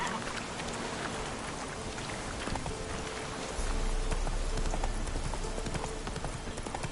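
Hooves of a horse trot in a steady, rhythmic clip-clop in The Witcher 3, heard over a continuous rain-like hiss of ambient game noise that grows slightly louder midway.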